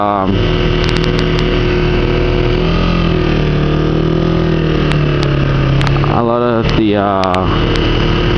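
Kawasaki Ninja 250 motorcycle engine droning steadily while riding, a continuous low hum with wind rush and a voice talking over it, the pitch dipping and rising near the end.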